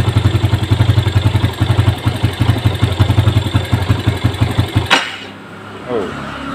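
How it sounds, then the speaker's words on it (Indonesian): A Yamaha Jupiter Z1 motorcycle idles roughly with a fast, uneven pulsing putter close by, then abruptly cuts out and stalls, leaving a faint rattle. "Motornya tidak mau langsam ya."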